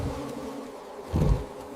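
Forest bees buzz in a steady low drone, with a louder swelling burst near the end as the swarm seems to pass close.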